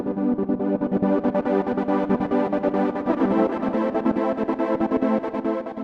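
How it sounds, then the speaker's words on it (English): A sustained Serum synth pad chopped into rapid rhythmic pulses by a trance gate effect, stuttering evenly over a steady chord. "there you have it, more of kind of like a pad effect"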